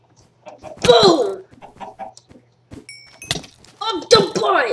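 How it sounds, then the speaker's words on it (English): Minecraft chickens cluck in two short bursts during hectic gameplay, mixed in with excited shouting from a player. "Chicken!"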